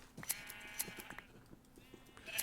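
Sheep bleat several times in Minecraft, short nasal calls repeating over soft background game sounds in a small enclosure holding white sheep and one black sheep, moderately close and without speech.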